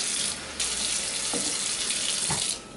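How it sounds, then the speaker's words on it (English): Water runs from a kitchen sink tap into a bowl, a steady close rushing gush with small shifts in tone as the bowl fills, no voices. "Fill the bowl up with water."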